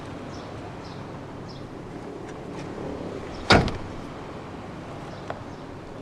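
The rear seat back of a 2017 BMW 118i M Sport five-door folds down with a single solid, close thump, followed by a brief rustle and then quiet cabin ambience.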